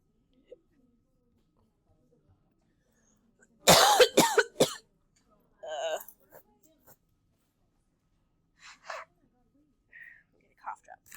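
A sharp cluster of close coughs breaks a quiet classroom during an algebra lesson, followed by a few soft throat sounds and faint murmurs.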